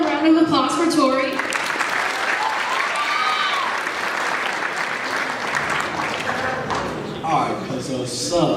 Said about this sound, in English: can we have another round of applause for Tori?